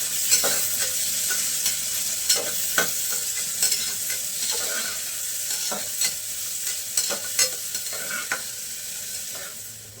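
Green chilies and spices frying for tomato pulao, a bright continuous sizzle close up with frequent spoon scrapes and stirring knocks, no voices.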